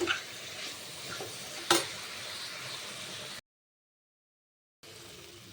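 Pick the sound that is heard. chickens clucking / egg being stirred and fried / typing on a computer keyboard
egg being stirred and fried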